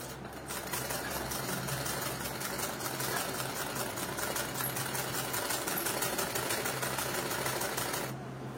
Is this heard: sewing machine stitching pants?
yes